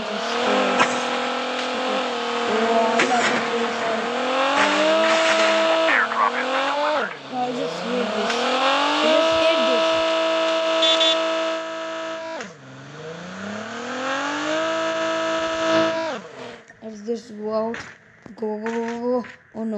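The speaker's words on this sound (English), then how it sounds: "I'll use the car. Go. It goes more fast than the truck." A car driven in the Call of Duty battle royale video game, its engine loudly revving up and dropping repeatedly as it accelerates, with brief tire squeals and skids, ending in choppy bursts.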